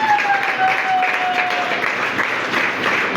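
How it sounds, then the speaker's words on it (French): A church congregation at a wedding blessing bursts into sustained, even applause to acclaim the Lord, a dense crowd of clapping hands filling the room with a faint tonal whistle over the top early on. "Est-ce qu'on peut acclamer le Seigneur?"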